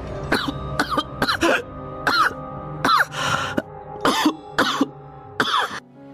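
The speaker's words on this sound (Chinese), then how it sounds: "四皇子殿下，您咳得这么厉害" A prince in a costume drama coughs hard and repeatedly, with about ten harsh, throaty bursts in uneven clusters, loud and close, and no speech between them.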